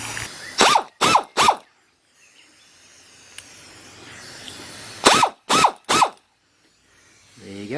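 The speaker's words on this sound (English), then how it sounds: "we're having a look at the air Ratchet Wrench at the moment." A BlackRidge air ratchet wrench runs on a compressor in two close sets of three short, sharp whirring bursts, separated by a few seconds of near quiet.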